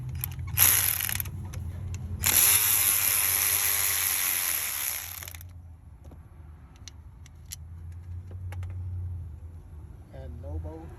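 A ratchet removing a brake caliper bolt on a 2014 BMW 528i 2.0L during a rear brake pad job: two bursts of rapid ratcheting clicks, up close and loud, followed by quieter handling noises.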